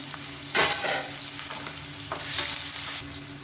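Sliced large onions sizzle in hot oil with bursts of stirring scrapes, steady frying crackle underneath; close and moderately loud, no voices.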